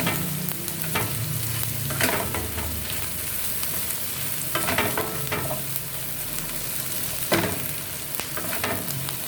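Bitter gourd (ampalaya) being sautéed in a pan, a steady sizzle of frying broken by repeated scraping strokes of stirring at irregular intervals, close up with no talking.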